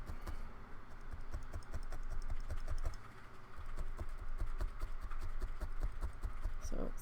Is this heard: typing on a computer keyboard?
yes